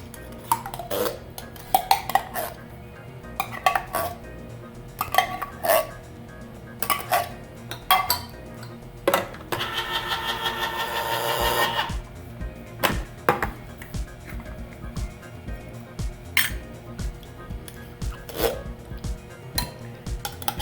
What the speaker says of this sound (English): Start out with Campbell's pork and beans. Dump it in.